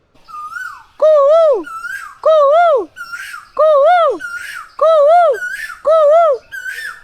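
A voice mimics a koel, repeating rising, looping whistled calls about six times in steady bursts with brief pauses between, loud and close.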